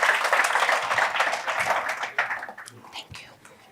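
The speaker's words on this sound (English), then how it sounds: "Please give them a round of applause, ladies and gentlemen" Applause from a corporate leaders' breakfast audience, a dense crowd clatter that stays steady for a couple of seconds before thinning into scattered claps near the end.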